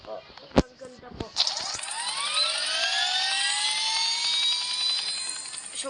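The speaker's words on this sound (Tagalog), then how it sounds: "Sobrang bilis po ng helicopter." A fast helicopter in a video game whines up into a loud, rising turbine roar after a few sharp clicks, then holds a steady, bright engine drone.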